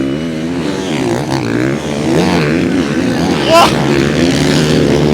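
Motocross bikes at the MXGP Portugal round in Agueda roar past over braking bumps, a loud continuous revving engine drone rising and falling with a brief surge, under excited French commentary.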